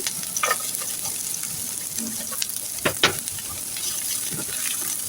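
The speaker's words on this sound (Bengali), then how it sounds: "এরপরে চুলে একটা প্যান বসিয়ে দিলাম তো আমি তিনটা শুকনো মরিচ আগে ভেজে নেব" Three dried red chillies frying in a pan for a leafy greens stir-fry, a continuous crackling sizzle with a few sharp pops and brief stirring scrapes, no talk.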